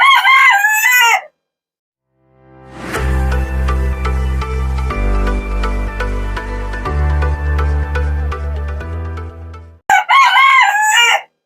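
A rooster in a chicken coop crows loudly and close by twice, once at the start and once at the end. A stretch of sustained musical tones fills the gap between the crows.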